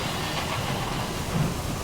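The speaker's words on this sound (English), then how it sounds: "Your engine's door slams shut as the thunder of the waterfalls diminishes." Deep rumbling roar of cascading waterfalls in the Sunless Skies game, a steady loud wash of low noise that eases slightly toward the end.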